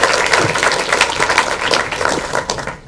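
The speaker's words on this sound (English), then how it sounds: "can everyone give Nidhi a big round of applause?" Audience applause at a pitch competition final, a burst of lively clapping from a room full of people that holds strong and then tapers off toward the end.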